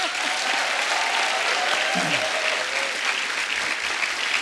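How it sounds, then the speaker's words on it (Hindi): Steady studio audience applause on a TV comedy show fills the whole stretch, dense and continuous, with a faint voice briefly underneath. "पहले तो इसी बात पे तालियां बनती हैं"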